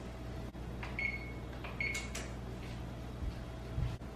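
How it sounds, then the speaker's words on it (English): An oven's control panel being set to preheat to 350 degrees gives two short, high electronic beeps about a second apart. They are fairly faint over a quiet kitchen background with no talking. "First, I'm gonna preheat the oven to 350 degrees."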